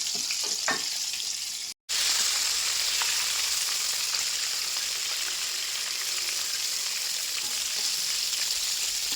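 Chicken pieces for a crispy KFC-style homemade fried chicken frying in oil over a medium flame, a steady close sizzle that runs without pause apart from one brief break.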